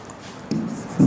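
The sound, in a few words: writing on a board during a maths lesson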